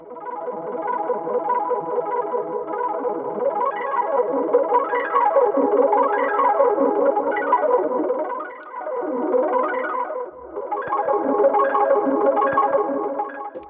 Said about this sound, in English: This one's called the light harp drum.